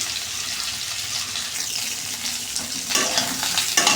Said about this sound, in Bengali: এটা আগে ভেজে নিলাম আলুটা ভালো মতন আগে ভাজতে হবে লাল লাল করে